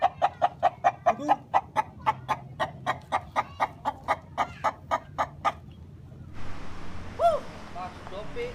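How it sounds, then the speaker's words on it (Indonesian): Chickens clucking in a quick rhythmic series of close, loud calls, followed by a brief noisy stretch with a short squawk, around a backyard flock kept for sale at the holiday. "Gua mau jual itu ayam."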